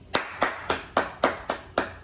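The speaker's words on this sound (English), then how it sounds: "you get an applause from me" One person clapping hands, seven sharp, close claps at a slow, even rhythm of roughly one every quarter second, each clap crisp and separate with nothing else heard.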